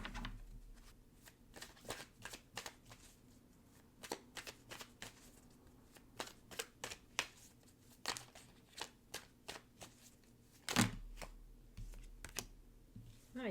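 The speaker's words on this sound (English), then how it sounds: "if you like sticking around and hearing the card shuffling, then be my guest" A deck of tarot cards is shuffled in quick, soft bursts of riffling and flicking, close and quiet, with no talk.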